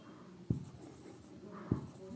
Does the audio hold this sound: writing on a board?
yes